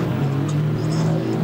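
A Mercedes-AMG GT Black Series in the Assetto Corsa racing game at Hockenheim, its engine holding a loud, steady, close drone under power with no break or gear change.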